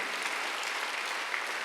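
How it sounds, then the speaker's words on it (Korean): A church congregation at a Sunday worship service claps in brief, steady, dense applause that fills the room evenly for under two seconds. "박수 한번 하세요."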